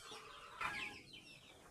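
Large farm hens make a short cluck or two at a distance, faint against a quiet rural background with no talking.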